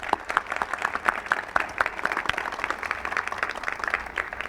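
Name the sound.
audience applause at a ceremony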